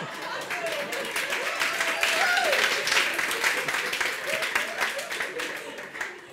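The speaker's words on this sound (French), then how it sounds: "Alors, allez-y, applaudissez." A church audience claps for a couple marking their 41st wedding anniversary; moderate, slightly distant applause carries on through the clip, mixed with some crowd murmur and a faint voice.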